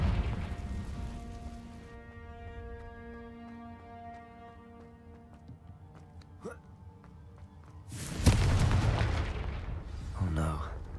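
The Confringo blasting spell goes off in Hogwarts Legacy with a loud, sharp burst that erupts after a stretch of sustained tonal game music, then a fainter second crackle trails off.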